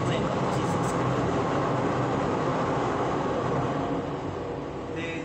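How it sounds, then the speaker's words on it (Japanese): A train passes close by, its broad, steady roar and rumble holding strong before easing off slightly near the end. "ちょうど今電車が通ったでしょう。"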